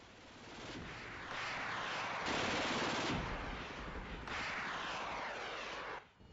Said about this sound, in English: Mi-24 is opening fire